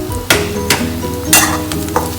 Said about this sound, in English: And then we will add simultaneously green chilies also. Give it a stir,